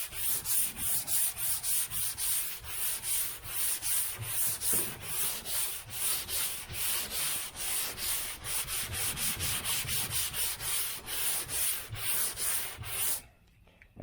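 Sandpaper on a block rasps across the deck lid of a 1978 Chevy Nova in steady broad back-and-forth strokes, a close, loud rhythmic scratching that runs continuously before stopping abruptly near the end.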